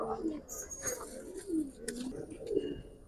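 Giribaz pigeons, silver and black-necked, cooing close by in several soft, rolling coos spaced across the moment, with quiet voices and faint chirps in the background.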